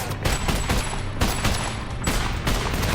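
Gunfire rings out in a war film battle scene, loud sharp volleys of shots fired in bursts over about three seconds, with no talking.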